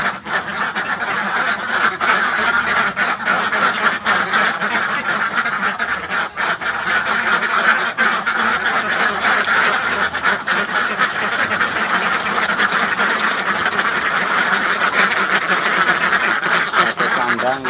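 A dense crowd of laying ducks quacks continuously and loudly on a duck farm pen holding about fifty birds, a steady overlapping chorus with occasional honking, while a person talks now and then.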